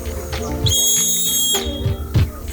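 A loud outdoor safety whistle rated at 131 decibels gives one sustained, piercing shrill blast lasting about a second, with brief breathy puffs before and after.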